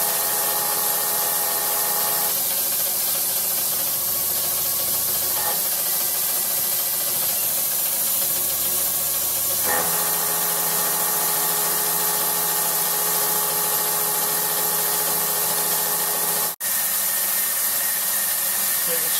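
A gang tooling lathe cuts a metal part, giving a steady continuous machining whir with tonal lines that shift as the cut changes partway through, plus a brief dropout near the end.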